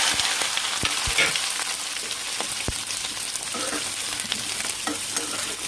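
Onions sautéing in hot oil for a tomato onion chutney give a steady broadband sizzle with occasional soft stirring clicks. The sound is close and continuous, with no talking.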